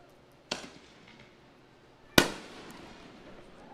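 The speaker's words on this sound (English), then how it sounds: "And I hope they were prepared with plenty more fireworks." Fireworks go off at a girls high school soccer senior night: two sharp, loud bangs about a second and a half apart, the second louder and followed by a crackling, echoing tail.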